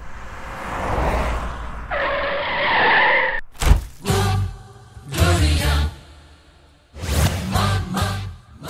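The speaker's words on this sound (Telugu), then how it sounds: "ఎవరిదిరా కారు అంత స్పీడ్గా వస్తున్నాడు?" A car speeds in and brakes hard, its tires skidding and squealing in several loud, sharp bursts after a steady rush of engine noise, in a short-film street scene.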